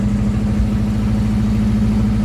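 Car engine freshly assembled and just started, idling with a steady, loud low rumble and an even rhythmic throb, close and alone without speech.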